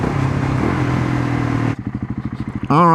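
KTM motorcycle engine running steadily and loud for over a second, then cutting to a rapid, pulsing idle-like chug, before a sharp rise into a revving whine at the end, close by.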